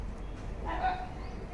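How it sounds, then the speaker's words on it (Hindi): Dogs bark outdoors, a single faint distant yelp standing out briefly over low background rumble. "समझ गया, कुत्तों की आवाज़ सुन के और डर रहे हैं"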